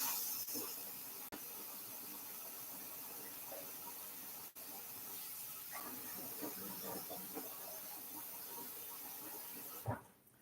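Running water hisses steadily as white lima beans are rinsed for a crock pot soup, a soft, continuous spray with small rattles and clicks, ending in a brief clatter near the end.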